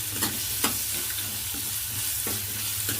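Raw mango frying in a pan is stirred with a spoon, a constant close sizzle broken by several sharp scraping strokes at uneven intervals.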